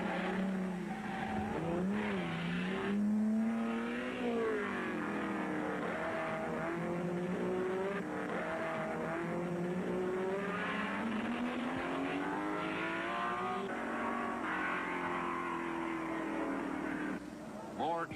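1964 race cars, including 3.3-liter Ferraris, race at the 12 Hours of Sebring, engines whining and shifting pitch continuously beneath steady commentary.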